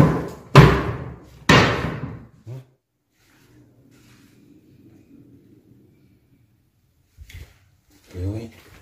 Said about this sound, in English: The door slams shut and opens by itself.